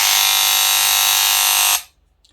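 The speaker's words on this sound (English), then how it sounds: "your clipper or your whatever this is called suddenly sounds like this" A hair clipper gives a loud, steady electric buzz that drones continuously, then cuts off abruptly, leaving near silence.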